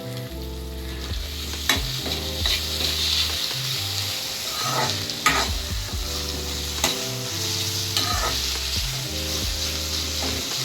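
Onion and tomato fry in a pan for baigan bharta, a constant close sizzle with regular spoon scrapes and knocks as the mix is stirred, and no one speaking.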